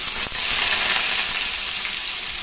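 Grated onion hits hot oil already seasoned with tempering spices, giving a loud, steady sizzle and crackle that runs unbroken, with a brief clatter near the start and no voices.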